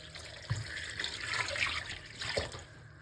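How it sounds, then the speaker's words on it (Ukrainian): Cold water poured from a tap into a pot over meat, a steady splashing flow with a couple of louder gushes near the start and end, close by with no talk. "Заливаємо зверху холодною водою так, щоб вода тільки покрила м'ясо."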